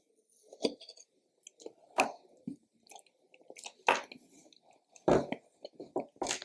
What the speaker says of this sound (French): on va goûter ce petit Mont Blanc